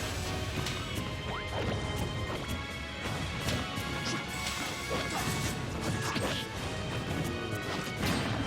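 Villager's bowling ball forward smash in Super Smash Bros lands among sharp crashing hits and whacks, set in a dense, continuous wash of busy game noise.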